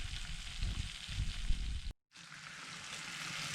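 Steady crackling sizzle of food frying in a pan on a wood stove in a hot tent at a winter camp, close and continuous, briefly cut off for a moment before resuming.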